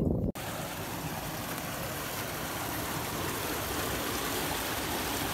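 Fast-flowing canal water rushing steadily, a loud, dense broadband wash that starts abruptly after a brief quiet moment and continues without pause throughout.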